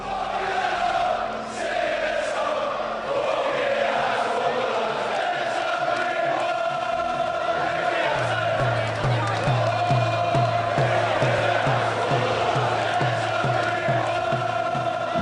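Large arena crowd at the Floyd Mayweather versus Ricky Hatton boxing fight, a continuous loud roar of cheering and chanting with rising excitement and a rhythmic chant building in the second half.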